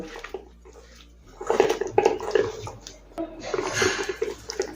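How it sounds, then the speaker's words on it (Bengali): Hands squish and slosh through mourala fish coated in plenty of mustard oil and other ingredients for bati chochhori, a wet, uneven mixing that grows louder in bursts, with no talking. "এখন সমস্ত উপকরণ হাত দিয়ে ভালোভাবে মিশিয়ে নেব।"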